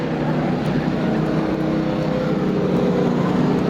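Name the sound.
speedway race cars engines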